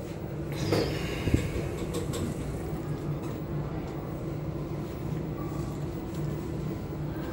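A 1991 Otis elevator, modernised by Otis in 2019, at a Chicago hotel entrance travels down between floors with a steady low mechanical rumble and hum throughout. A few light clunks sound near the start.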